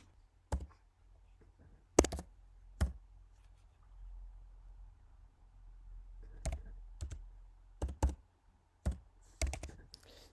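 Computer keyboard being typed on while entering a date, sparse sharp key clicks spaced irregularly, a few close together, over a quiet room hum with no talking.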